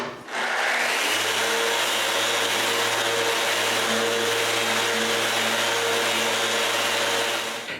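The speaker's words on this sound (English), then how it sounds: "I sand it right away." A power sander works over a wooden serving tray in one continuous, loud, steady whir, with a constant hum and a rough rubbing hiss that runs unbroken until it cuts off at the end.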